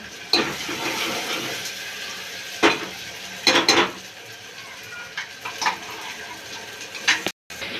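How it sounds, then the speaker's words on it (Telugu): Ginger masala frying in a pan in a home kitchen, with several bursts of sizzling and spoon scraping against the pan over a low steady hiss, close by and moderately loud. "బాగేసి అల్లము బాగా వేగాలి"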